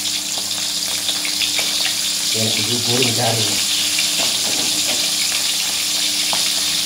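Fermented lais fish, pekasam ikan lais, fries in hot oil with a constant bright sizzling hiss, while a voice speaks briefly over it.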